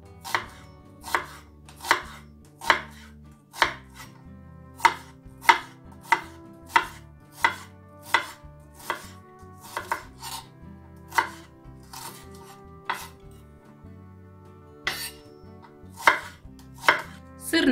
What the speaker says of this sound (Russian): Лук нарезаю кубиком.